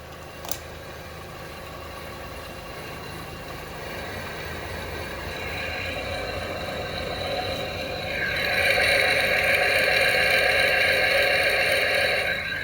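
Mechanical whirring and droning from a car's wheel bearing, picked up by microphones clipped onto parts of the car. A steady hum with tonal layers grows louder partway through, as if the wheel speeds up, with one brief click near the start.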